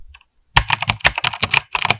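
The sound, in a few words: typing on a mechanical gaming keyboard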